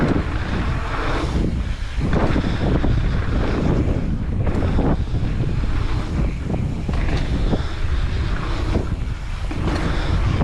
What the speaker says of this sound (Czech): Vítr mě nemálo cfouknul.